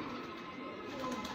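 A pigeon coos softly and briefly at close range in a quiet setting, with no other sounds around it.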